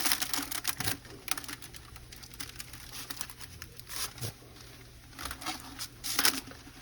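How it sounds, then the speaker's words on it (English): Aluminium foil crinkles and crackles after dipping in liquid nitrogen, a close, irregular patter of small sharp snaps and rustles scattered through the whole stretch with no talk. "see the crinkling of the foil"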